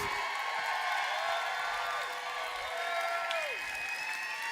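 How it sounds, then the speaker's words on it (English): Audience applause at a conference awards moment fills the whole stretch as a steady, dense wash of clapping from a crowd, with a few whistles or cheers rising above it. "Give Judy a huge round of applause."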